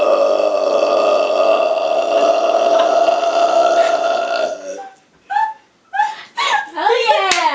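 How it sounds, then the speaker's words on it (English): Burping: a long sustained belch tone lasting several seconds, loud and close, followed by a few shorter vocal bursts and brief voiced sounds as people react. "Let us sit back And burp."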